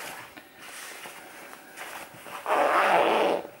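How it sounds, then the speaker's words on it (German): A zipper is pulled open on a freshly sewn fabric cosmetic bag, a short rasping burst that stands out loudly at the end after quiet handling noises. "Den Reißverschluss, also mache ich jetzt etwas auf."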